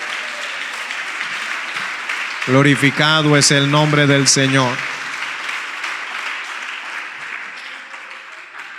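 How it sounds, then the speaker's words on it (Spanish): A church congregation applauds, producing a steady wash of clapping throughout, with a voice speaking over it in the middle. "dele un aplauso al Señor en esta hora"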